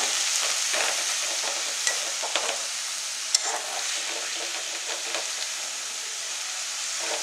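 Shushni greens frying in a pan with moisture cooking off, a continuous soft sizzle broken by scraping and clattering stirring strokes, close and moderate in level, no voices.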